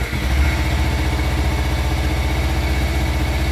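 A motorcycle engine idles steadily before a new muffler is fitted, giving a loud, close, even rumbling throb that continues without a break.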